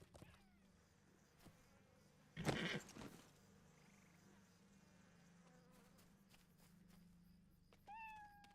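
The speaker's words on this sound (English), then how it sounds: "There's a kitty cat." A cat in a fantasy video game gives a single short meow near the end, faint against a quiet background of buzzing insects and ambient hum, preceded by a brief louder rustling burst.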